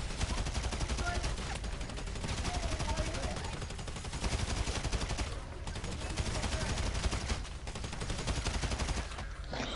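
AK-47 rifle fire in a video game, sustained rapid automatic bursts that run nearly continuously with brief pauses, dense and loud throughout.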